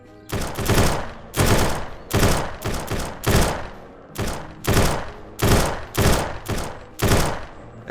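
Gunfire in an open world survival video game, about a dozen loud, sharp shots fired in a fairly steady rhythm with short pauses, each with a brief echoing tail, close and alone without speech.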